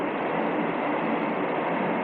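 A train passes close by, giving a steady, loud broadband rumble and hiss that fills the whole moment without letup, with no voices heard.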